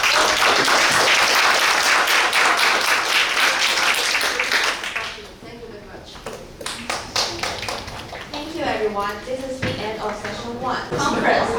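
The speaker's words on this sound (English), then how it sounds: "can I invite our audience to give a round of applause" Dense, loud audience applause fills a conference hall, steady at first and then thinning into scattered claps, with a voice speaking over the tail end.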